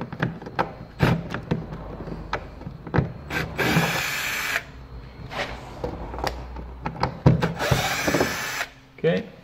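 Torx T20 screws being backed out of a BMW 1 Series F20 front door panel with a power screwdriver, several short whirring bursts separated by pauses, handling clicks and rattles, close up.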